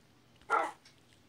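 A Minecraft dog gives a single short, faint bark or yip, alone against near-silence.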